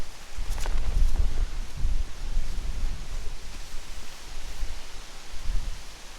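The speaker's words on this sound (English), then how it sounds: "So wind picked up a little bit" Gusty wind buffeting and rustling against a camping tarp, with low rumbling surges that rise and fall over several seconds.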